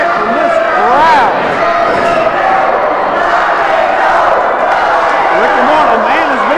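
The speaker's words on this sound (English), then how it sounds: "Huge rock and roll chant from this crowd." A packed wrestling arena crowd roars in a loud, sustained rock and roll chant, many voices blending into a dense, rising and falling wall of sound that fills the whole stretch.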